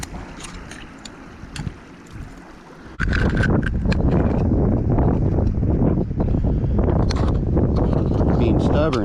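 Wind buffets the microphone in a loud, steady roar on a cold day after a quieter opening, with faint speech mixed in.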